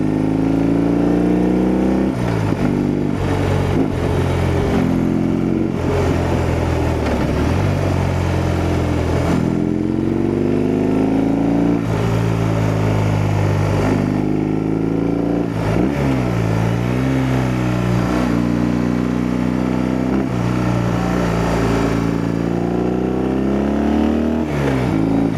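A BMW R18 Transcontinental motorcycle riding mountain roads in the Rocky Mountains, its engine rumbling steadily and rising and falling through shifts and revs, loud and close with wind noise throughout.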